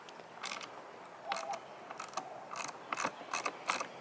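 A T20 bolt on a saddlebag latch of a 2019 Harley Road Glide Special is loosened with a ratchet, giving short bursts of quick metallic clicking, quiet and close, with no speech.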